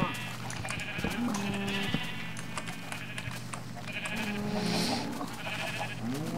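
Sheep bleat repeatedly in a farming video game, several calls rising and falling over a steady low background hum, fairly close and clear.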